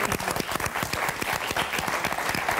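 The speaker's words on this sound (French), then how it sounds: "Eh ben on va applaudir nos quatre candidates" A French game-show studio audience applauds the four contestants, a dense, steady wash of many hands clapping, loud and close throughout.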